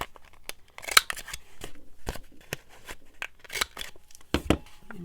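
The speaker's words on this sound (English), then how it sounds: "we need to trim our corners" Scissors snipping the corners of a craft piece made from dictionary paper, several quick crisp cuts in an irregular rhythm, close and fairly quiet, with no talking.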